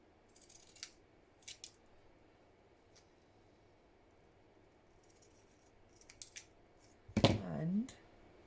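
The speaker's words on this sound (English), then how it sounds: "cut 2 at once, try and get the pink in shears" Sharp shears cutting through folded fabric in a few quiet snips spread apart, then a louder rustle of cloth near the end, heard close up with no talking.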